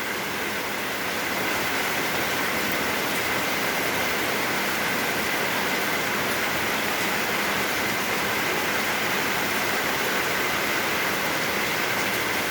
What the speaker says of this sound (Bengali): মোটামুটি পানি ভালোই পড়তেছে।